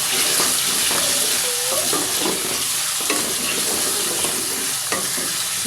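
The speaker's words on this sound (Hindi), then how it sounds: "इसको हम थोड़ा सा इसको फ्राई करते हैं।" Chicken frying with onions in a pan while being stirred: a loud, continuous sizzle with scraping and clinking stirring sounds throughout, close up and without talk.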